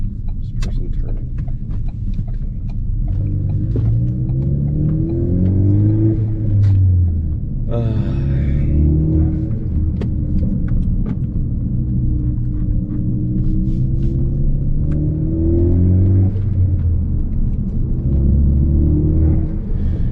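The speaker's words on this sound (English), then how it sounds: "So I'm getting some compressor surge" A Ford Focus ST with a turbo and true vacuum source, driven on the road: a loud, steady engine drone that rises and falls with throttle, with a brief fluttery burst of compressor surge partway through.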